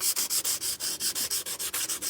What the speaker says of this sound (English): what I have here is some 320 grit sandpaper